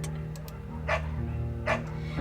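A beagle barks in the game Firewatch, two short separate barks over a steady low hum of background music.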